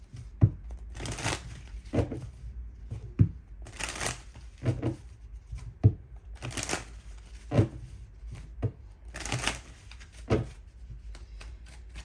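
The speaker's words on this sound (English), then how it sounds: "Let me go ahead and shuffle because there's too many cards." Tarot cards are shuffled in repeated soft riffling bursts, each a brief papery flutter followed by light taps, recurring at a steady pace with no talking.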